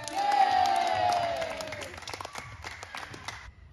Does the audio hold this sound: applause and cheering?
yes